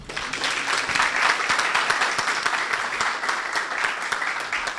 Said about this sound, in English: They seem very happy, and therefore they are applauding one more time.